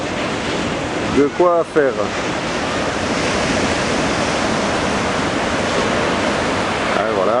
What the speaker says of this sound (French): des phases de vagues qui sont lisses, et des vagues qui sont assez rapides, fermantes